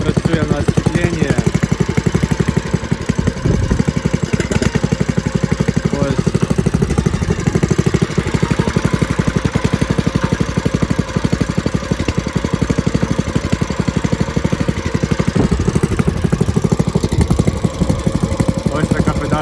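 A homemade tractor's small Moskvich car engine runs steadily with a rapid, knocking chug, loud and close, continuing without letup throughout.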